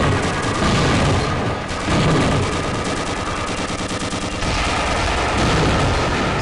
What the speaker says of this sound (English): Press your crouch key to fire the machine guns.